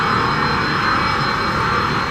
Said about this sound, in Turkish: Ve uçak gördüğünüz gibi yavaş yavaş hızlanıyor arkadaşlar.